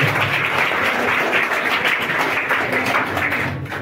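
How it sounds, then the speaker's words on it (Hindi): An audience claps continuously at a prize distribution ceremony in a coaching class while two students receive their prize money on stage. The applause stays full and steady, easing slightly toward the end. "तालियां बजती रहनी चाहिए आप लोग।"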